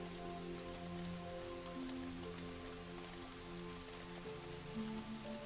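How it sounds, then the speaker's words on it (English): Light rain falls steadily through a forest, a soft continuous patter of drops on leaves and ground, even and unbroken throughout with no voices, while a faint tonal hum lingers beneath the wash. "The rain is light."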